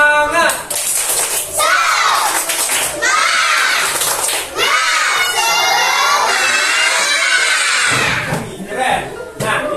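A classroom of children loudly chant and clap the tepuk semangat routine together, voices shouting in unison over rhythmic clapping, filling the room almost without pause.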